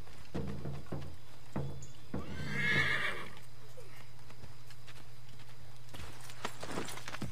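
A horse whinnies and its hooves clip-clop in Assassin's Creed 3, with a few close hoof thuds, a shrill neigh midway, and more hoof taps near the end over quiet background.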